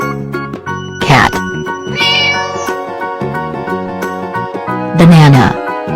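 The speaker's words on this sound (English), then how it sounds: "Cat." Cartoon-style cat meows at a kids' outdoor farm playground, two loud, drawn-out calls over bright background music and voices.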